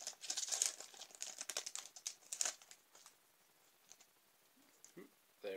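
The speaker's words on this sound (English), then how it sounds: "crack on into these five packs" A Pokémon Fates Collide booster pack wrapper is torn and crinkled open up close in quick bursts of crackling foil that fade out, followed by a few soft handling sounds.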